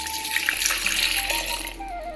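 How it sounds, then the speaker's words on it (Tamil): Soapy water pours into a vessel in a village kitchen, a steady close splashing and trickling stream lasting about two seconds, alone without talk. "சோப்பு தண்ணியை நான் இதில் ஊற்றிக்கிறேன்."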